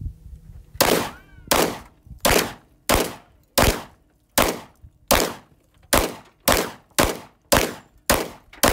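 Kimber 1911 pistols in 10mm and .45 ACP fired side by side outdoors, a dozen loud, evenly spaced sharp shots with short ringing tails and no talking.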